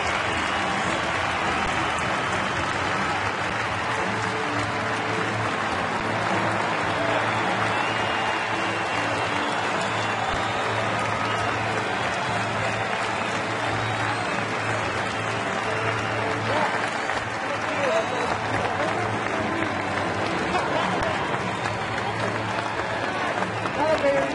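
A stadium crowd of over 33,000 at a Cardinals at Brewers baseball game cheers and applauds in a long, unbroken roar, loud and dense with sustained rumble.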